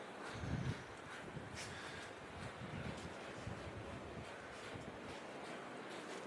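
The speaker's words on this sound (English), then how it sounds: "It's really windy." Wind gusts in a blizzard roar across the microphone as a steady, rough rush with a brief louder buffet near the start, with no voices.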